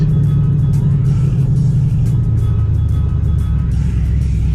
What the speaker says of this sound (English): She's spinning tires too much.